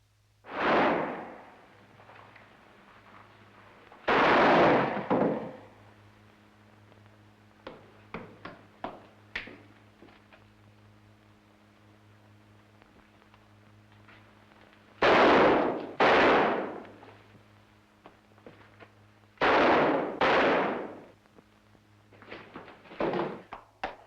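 Several loud gunshots ring out, single and paired blasts spread over the stretch, with smaller clicks and clatter in between and a steady hum underneath.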